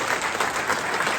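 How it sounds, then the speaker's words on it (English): Broad, dense crowd applause fills a statue unveiling, steady and close with no pauses across the short burst. "Give them a massive round of applause."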